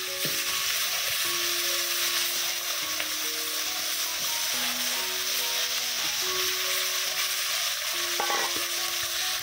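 Vegetables frying in a pan on a stove, a steady close sizzle running throughout with occasional stirring scrapes and clinks, no talking.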